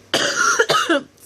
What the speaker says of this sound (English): I just coughed all over it